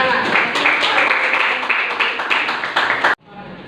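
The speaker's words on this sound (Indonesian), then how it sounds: "Tepuk tangan untuk Anas." Classroom applause for a student fills the room with dense, continuous clapping from many hands for about three seconds, then cuts off abruptly into quiet room tone.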